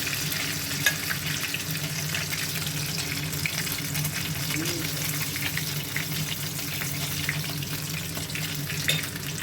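Steady sizzling and hissing of stuffed potato pancakes frying in a hot 30 cm pan, continuous and close, with faint clinks now and then; no talking.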